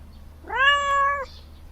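A single cat meow inside an entrance area of a house under renovation in Kagoshima, Japan, clear and fairly close, rising then holding steady for under a second against a quiet background.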